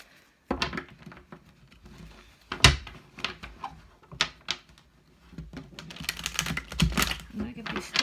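Crisp riffling and tapping of tarot cards being shuffled, several quick bursts close by with soft knocks in between.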